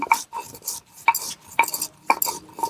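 Eggs are mixed with turmeric and salt in a pan, producing close, rhythmic metallic clinks and scrapes about every half second, crisp and fairly loud, with no voices.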